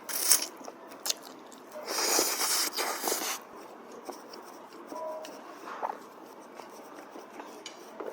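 Close-up eating of crab pasta with bacon: soft crunches, bites and chewing, with a denser burst of crunching in the middle and quieter mouth sounds after.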